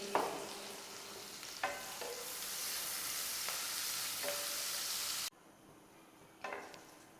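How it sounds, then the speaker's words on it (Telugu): Sliced onions with salt and turmeric sizzle steadily in a hot pan, with a few sharp spoon scrapes and knocks from stirring, close and loud, before the sizzle drops suddenly quieter near the end. "ఆనియన్స్ అనేవి తొందరగా వేగటానికి కొంచెం సాల్ట్ వేసుకుంటాను."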